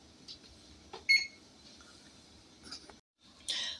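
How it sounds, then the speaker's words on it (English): A kitchen timer being set for ten minutes beside a stove while chili heats, giving a few faint, brief beeps and clicks amid quiet room noise. "we're going to set the timer for 10 minutes"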